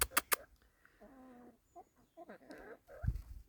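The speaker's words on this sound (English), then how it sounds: "And look at his beautiful cockerel." A cockerel on a Portuguese homestead clucks in short, soft, close bursts with quiet gaps between them, preceded by a few sharp knocks and followed by a low thump.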